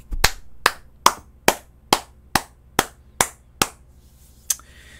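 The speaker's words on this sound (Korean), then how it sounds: "박수 한번 칩시다." Hand clapping at a seminar for insurance and telemarketing sales staff: about ten crisp, evenly spaced claps in a slow, steady rhythm, close and clear with quiet between them and no talk.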